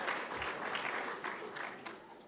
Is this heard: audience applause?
yes